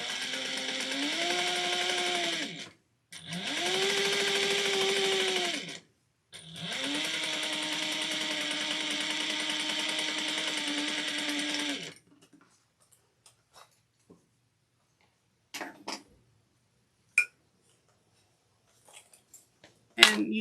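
Domestic sewing machine back stitching to close a fabric panel on a Sallie Tomato Luci bag, three bursts of rapid whirring stitching with pitch rising as it speeds up, then quiet with a few faint clicks and handling taps.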